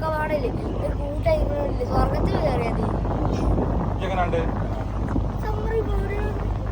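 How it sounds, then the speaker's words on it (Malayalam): A passenger boat's motor drones low and steady on the Kochi backwaters, with wind buffeting the microphone. People talk nearby over the engine throughout. "ബോട്ട് യാത്ര ആരംഭിച്ചിരിക്കുകയാണ്"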